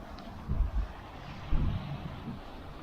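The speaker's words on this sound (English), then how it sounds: "It is a very windy day today, and you can see why people are here doing wind sports." Strong wind on a windy coast in Cape Verde buffets the microphone in low rumbling gusts, two heavier blasts within a steady roar.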